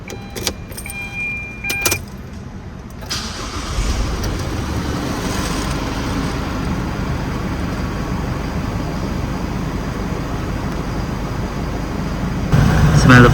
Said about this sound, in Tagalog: this is the cold start of the Mazda BT50 4x2